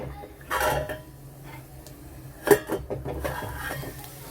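The metal lid of a pan of garlic-fried dried fish is lifted with a clatter and a sharp clank, followed by a few lighter knocks of cookware, close and without talking.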